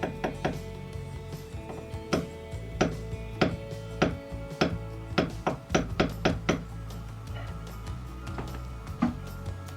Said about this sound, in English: just use a little hammer to do that